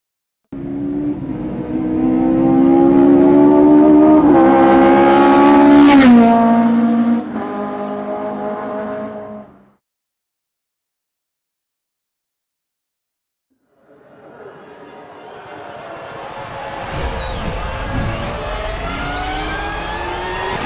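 Large turbocharged classic Formula 1 cars roar loudly in a video game, one engine revving up and falling away, then silence before another engine swells back in, with no talk.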